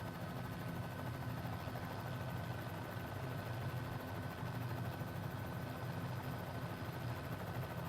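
A helicopter engine drones steadily in a flight simulator game, a constant low whirring rumble with no voices.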